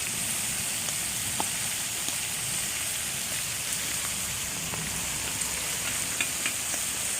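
Meat frying in its own oil with coriander added, cooked in a walled outdoor village kitchen, gives off a steady, even crackling sizzle at close range with no voices.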